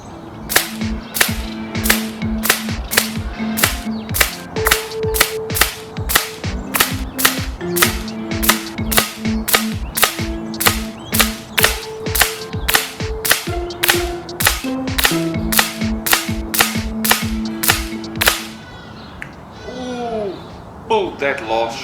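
An air gun fires 30-grain slugs in a rapid, evenly spaced string of sharp, close cracks, each followed by a brief mechanical ring, before a short pause with faint talk at the end.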